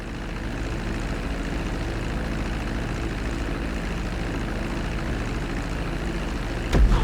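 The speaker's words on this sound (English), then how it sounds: "Now let's get the plane off the runway." A propeller airplane in the GTA V video game taxis on a runway, its engine a steady loud drone with low throbbing that holds throughout and gives a brief louder burst at the end.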